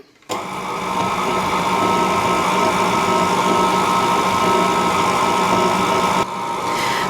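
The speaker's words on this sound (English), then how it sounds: "we're gonna cream butter and sugar with lemon zest and make it all combine" A stand mixer creaming butter and sugar with lemon zest for lemon cupcakes, starting abruptly and running as a steady, loud motor whir for several seconds, with a brief dip near the end.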